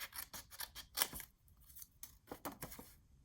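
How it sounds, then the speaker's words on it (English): Small scissors snip through paper while cutting out little squares for a handmade pocket organizer, a quick run of crisp, close cuts with brief pauses between bursts. "I'm gonna get my small scissors so I don't chop into it."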